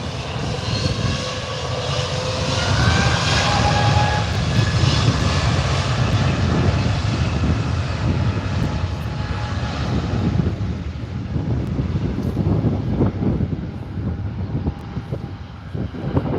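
An EasyJet airliner taxis at Manchester Airport, its engines giving a loud, steady roar that holds without a break for the whole stretch, with no voices.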